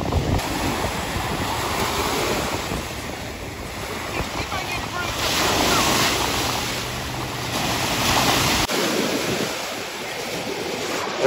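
Ocean-like waves wash continuously onto a beach near Port Huron on the Great Lakes shore, with steady surf roar mixed with gusting wind buffeting the microphone.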